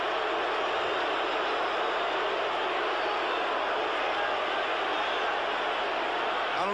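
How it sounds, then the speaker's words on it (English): Stadium crowd at a 1989 NFL game between the Atlanta Falcons and San Francisco 49ers, a continuous broad roar of cheering during a return, loud and sustained throughout. "listen to the crowd"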